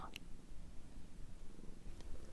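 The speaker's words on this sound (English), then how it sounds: "cat purring" A cat purrs close and soft in a quiet room, a continuous low rumbling rhythm with a faint click or two.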